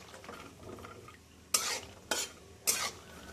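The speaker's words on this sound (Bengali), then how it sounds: "একদম গ্যাসের ফ্লেমটা কম করে চীনাবাদামটা আস্তে আস্তে ফ্রাই করে নিতে হবে।" Peanuts fry slowly over a low gas flame in refined oil in a kadai, with a soft steady sizzle broken by three sharp metal stirring scrapes close up.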